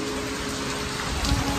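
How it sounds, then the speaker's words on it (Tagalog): Heavy rain falls in a steady, dense hiss, loud and close, with a louder surge of drops near the end and no voices. "Ang lakas ng ulan."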